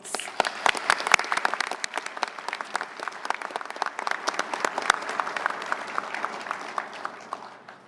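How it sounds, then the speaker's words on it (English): A luncheon audience applauds Navy sailors being recognized, a crisp round of many hands clapping with sharp individual claps standing out, heard alone and tapering off near the end. "Round of applause, please"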